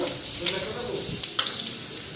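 Papad fries in oil, sizzling steadily with a crackling hiss, punctuated by a few brief sharper pops and a light clink near the end.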